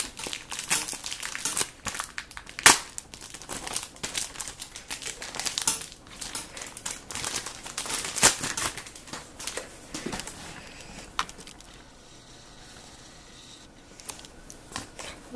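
Packaging for a Logitech Extreme 3D Pro joystick is torn open up close, with bursts of crinkling plastic and crumpling cardboard, sharp snaps and rustles, fading to quieter handling toward the end.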